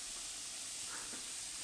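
Lean beef patties for a Finnish rye burger sizzle in a frying pan, a faint, steady hissing crackle with no voices over it.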